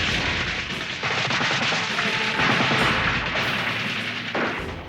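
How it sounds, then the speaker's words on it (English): Machine gun fire from a far riverbank in a Vietnam War battle, dense sustained bursts of shots and booms forming a loud, continuous barrage. "a machine gun opened up on the far bank right in front of them"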